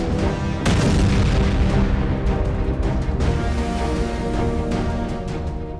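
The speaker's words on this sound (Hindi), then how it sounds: "फिर धमाके के" Explosions over Aleppo, Syria, at night: a heavy, sustained booming roar that begins with a sharp blast, followed by further thuds layered in continuous rumble, loud throughout.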